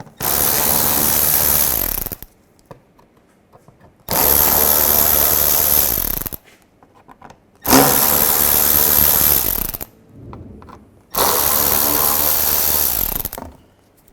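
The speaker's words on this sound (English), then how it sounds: "Take these screws out." Screws come out of a Volkswagen Jetta panel under a power tool, heard as four loud, close bursts of buzzing, ratcheting whir, each about two seconds long, with near silence between them.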